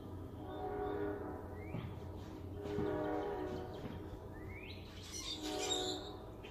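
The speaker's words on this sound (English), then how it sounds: "There's the train" A train rumbles past at a moderate distance and sounds its horn in several sustained blasts that rise over the steady rolling of the rail cars, with no talking.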